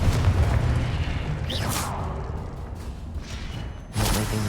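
A Confringo blasting spell detonates in Hogwarts Legacy gameplay, with a deep booming burst and a whooshing streak rising out of a steady rumble, followed by a second loud impact near the end.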